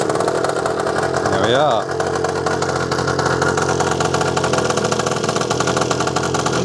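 A restored 1962 Lambretta Series 2 186cc scooter engine catches after a kick-start, giving a brief rising rev before it settles into a steady, close idle. A person speaks briefly over it.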